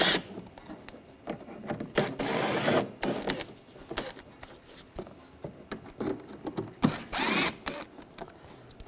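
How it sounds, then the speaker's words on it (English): A socket wrench with a T25 bit takes screws out of the inner fender well of a 2004-2009 Audi A4 Quattro. Close ratcheting clicks and short metallic rattles come in bursts with quiet pauses between them, and no one speaks. "we're going to do the same T25 socket. Take these screws out."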